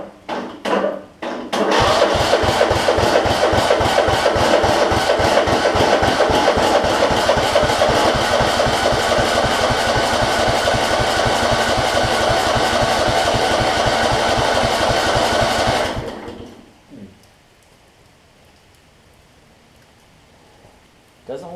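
Kohler Command engine on a Husqvarna riding mower cranking without catching: a long, loud, rapid rhythmic chugging from the starter for about fourteen seconds, then stopping, followed by quiet.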